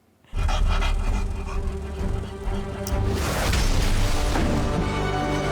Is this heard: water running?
no